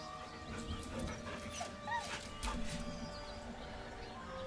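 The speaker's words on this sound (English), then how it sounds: "The dog whimpers nervously" A dog whimpers in the video game Baldur's Gate 3, giving a few soft, nervous whines and short high yelps over a low ambient game background, with no voices.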